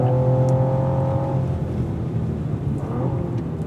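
A Cadillac V race car accelerates on a track, its engine note rising as a loud, sustained roar under wind rumble, close and alone without talk.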